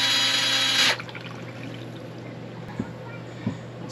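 Water flows out of a DIY water filter in a loud steady pour for about a second and then stops, leaving a low hum with a couple of faint drips.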